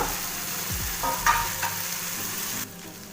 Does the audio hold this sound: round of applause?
no